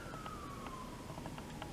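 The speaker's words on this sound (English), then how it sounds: "Can you hear those sirens?" A faint, distant emergency siren from a nearby fire and police station glides slowly downward, with a few soft clicks and knocks close by and no talking.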